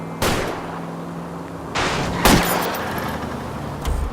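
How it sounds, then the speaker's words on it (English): Gunshots fired at a fleeing car's tires during a car chase in LA Noire Remastered: three or four sharp, spaced cracks over a constant engine drone, loud and close, with no talking. "I'll try to shoot out his tires."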